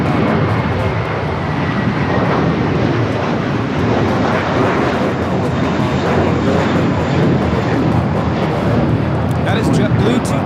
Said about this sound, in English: That is JetBlue 224 taking off to JFK on the A321